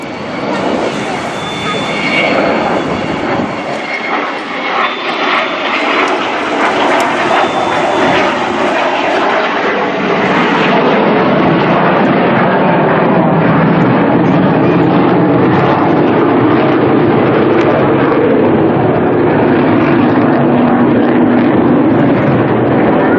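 Avro Vulcan XH558 jet bomber passing at an airshow in Eastbourne with its landing gear down: a loud, continuous broadband engine roar that swells and holds steady, filling the whole clip without pause.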